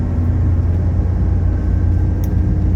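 Mercedes 300CD driven fast through turns, a loud steady engine and road rumble from inside the car with no letup.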